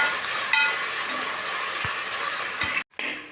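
Onions with ginger garlic paste fry in a pan for mushroom biryani, a loud, close, steady sizzle with stirring that cuts out briefly near the end.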